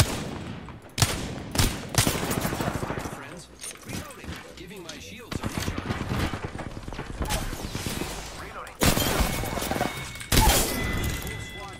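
Gunfire rattles in an Apex Legends end game, with repeated loud bursts and rapid volleys separated by brief lulls, and a voice speaking at times.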